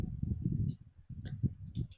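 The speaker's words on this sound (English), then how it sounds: "I'm typing like this" Computer keyboard typing while writing Python code, a close, quick run of soft irregular key clicks in two short bursts separated by a brief pause.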